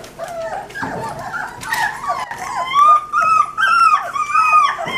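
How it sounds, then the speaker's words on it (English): Puppies whimper, yip and break into thin rising howls, the cries growing louder and more insistent over a few seconds, close by and with no talking. "You little howler."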